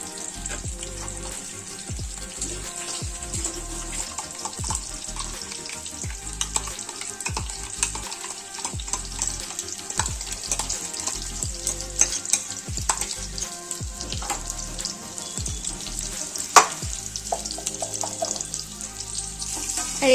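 Cauliflower florets frying in a pan: a continuous close sizzle with frequent scraping, clicking stirs throughout, no voices.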